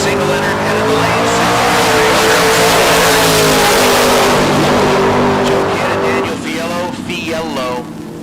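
Super Pro dragster racing down a drag strip at a bracket race, a loud sustained engine roar near the microphone that fades slightly at the end, with an announcer talking over it.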